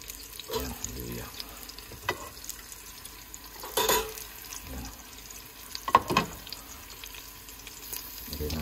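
Ginger frying with rabbit meat in a pan while being stirred, with a low sizzle under intermittent scraping and clattering, a few louder knocks, and some background noise.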